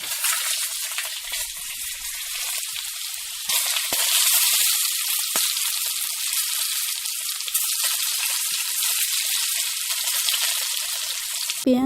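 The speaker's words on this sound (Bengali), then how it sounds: "ওই কড়াইয়ের মধ্যে কিছুটা রিফাইন্ড অয়েল দিয়ে পেঁয়াজগুলো ভেজে নেব।" Onions frying in refined oil in a wok give a steady, loud broadband sizzle that swells after a few seconds and stays dense throughout, with no talking.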